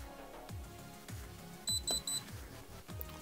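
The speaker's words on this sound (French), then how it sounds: "3 petits bips." A Novritsch ClipCam airsoft camera switching on gives three short, clear electronic beeps in quick succession over quiet room background with faint handling knocks.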